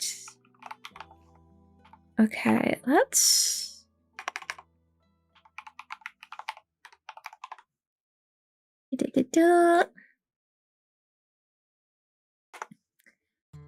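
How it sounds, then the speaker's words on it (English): Short bursts of clicking on a computer keyboard, scattered typing runs separated by pauses, close and fairly loud, with a brief spoken phrase and a sung vocal in between. "look at my epic keyboard."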